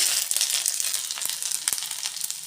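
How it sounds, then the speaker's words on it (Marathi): Garlic and ginger frying in hot oil: a steady bright sizzle fills the whole stretch, with a few soft ticks and crackles, close and loud, no voices. "आपलं तेल गरम झालं याच्यामध्ये आता लसूण लसूणबरोबर आलं"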